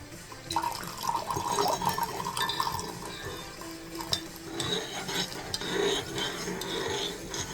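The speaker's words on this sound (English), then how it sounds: "we're just gonna pour the rest of this coffee in." Coffee poured into a cup that already holds sugar and half and half, a steady trickling, splashing stream running throughout at close range with a few small clinks.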